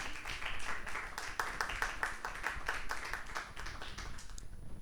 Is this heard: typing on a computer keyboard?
no